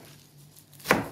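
One sharp knife chop through fresh parsley on a cutting board, a single close thud near the end after near silence.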